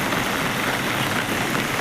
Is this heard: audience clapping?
no